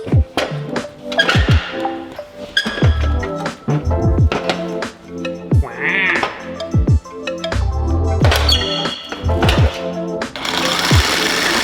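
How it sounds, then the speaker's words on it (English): A power tool cuts the tops off a truck's factory bumper mounts on a drift truck build, giving loud, close, harsh grinding and chattering bursts with metallic pings and clanks between passes, no talking. "we're gonna have to cut the top off of the factory mounts"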